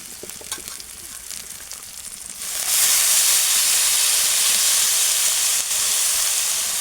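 Grated kohlrabi tipped into a hot pan with spices erupts into a loud, steady sizzle that holds continuously after a quieter start.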